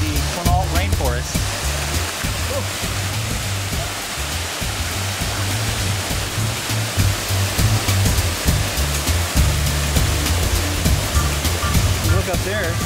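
Waterfall in the Quinault rainforest, a broad, steady rushing hiss of falling water, loud and continuous, with someone speaking over it at the start.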